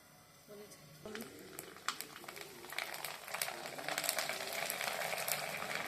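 Sago and potato papad dropped into hot oil for deep frying, with a steady close crackling sizzle that swells and grows denser as the papad puffs, over faint room noise.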